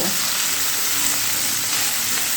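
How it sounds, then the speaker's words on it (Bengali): Chopped onion and garlic frying in oil for a small-fish chorchori, a steady, close sizzle that runs unbroken throughout with no voices. "এবারে পেঁয়াজ আর রসুন তেলের সঙ্গে একটু ভালো করে ভেজে নেব।"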